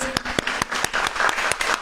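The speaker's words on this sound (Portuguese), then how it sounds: "nós podemos dar uma salva de palmas bem calorosa para elas" A small church congregation gives warm applause during a Sunday service, a sparse scattering of distinct claps at an uneven rhythm, close and fairly clear.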